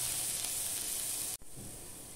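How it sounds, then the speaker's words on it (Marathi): Onion and ginger-garlic paste sautéing over a low flame, a soft steady sizzle and hiss that briefly cuts out before resuming, close and quiet with no talking. "घालायची आहे अद्रक लसूण पेस्ट, मंद गॅसवर परतून घ्यायचे"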